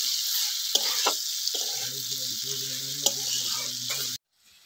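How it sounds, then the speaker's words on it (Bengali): Fried potatoes and papaya being stirred in a pan for a mung dal and papaya curry: steady sizzling with scraping spoon strokes and a couple of sharp clinks, continuous and close, then stopping abruptly near the end. "ভেজে রাখা আলু আর পেঁপেগুলো দিয়ে দিচ্ছি। ভালো করে নাড়াচাড়া করে মিশিয়ে নিচ্ছি।"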